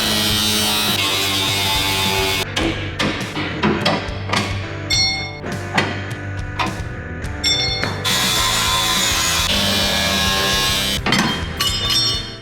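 Parts of a steel truck frame being cut out in a fabrication shop: a loud, continuous grinding and cutting roar broken by repeated sharp metallic knocks and bursts, close and with no voices.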